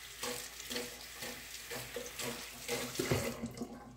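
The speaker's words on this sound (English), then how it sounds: "in this bowl, I'm going to turn on the hot water" Hot water runs from a kitchen tap into a bowl in a steady, moderately quiet gush with a brief splashier surge near the end.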